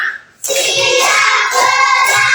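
Schoolchildren in a classroom applaud in a steady, loud wash of many overlapping hand claps that continues without a break after a brief quiet start.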